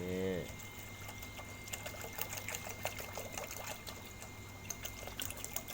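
Water from a bottle poured into a cooking pot while chicken simmers, a steady splashing and trickling wash with small clicks on top, close by, with faint talk in the background.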